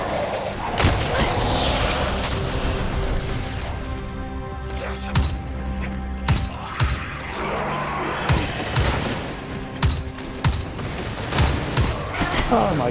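Rapid bursts of gunfire from a weapon in Destiny 2, sharp cracks clustering in quick volleys between short pauses, fairly close and loud.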